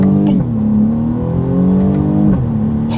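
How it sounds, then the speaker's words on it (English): A 2020 BMW M235i Gran Coupe revs hard through quick paddle-shifter upshifts, a loud, close engine note that climbs, drops sharply at each shift, and climbs again. "let's test out the paddle shifters here, see how quickly they react for us"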